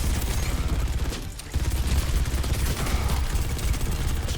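Sustained, dense gunfire in the Overwatch 2 video game: continuous rapid shots fill the clip at a steady, loud level with a brief dip in the middle, and there is no talk.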